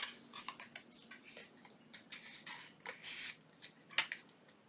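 Paper journaling card being trimmed at a craft table for a junk journal, a series of soft, close cutting and rustling sounds with a few sharper snips, no speech.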